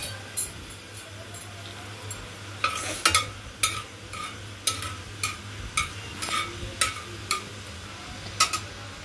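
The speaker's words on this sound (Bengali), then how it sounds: "গোটা জিরেটা দেওয়ার পর আমি একটু নাড়লাম জিরেটাকে।" Whole cumin seeds stirred in hot oil for a quick moong dal, a steady low sizzle broken by a series of sharp spoon scrapes and clicks against the pan, close and fairly quiet.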